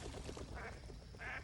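Ducks quacking in a short run of repeated calls, moderately loud and close, with no talking over them.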